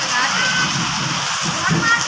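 Steady rain pouring down over a village in Shirale, the season's first shower, a thick continuous wash of falling water, near and loud, with faint voices murmuring underneath.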